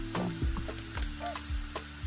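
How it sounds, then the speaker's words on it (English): Onions, ginger and garlic fry in a pan for a chicken-in-tomato-sauce dish, a soft sizzle broken by several sharp stirring and scraping knocks of a utensil against the pan, close up and without speech. "We are cooking our onions, ginger, garlic."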